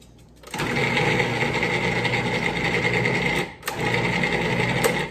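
An electric mixer whirs into motion after a quiet start, running steadily and loudly while pureeing sweet potato. It breaks off briefly with a dip near the end, then resumes.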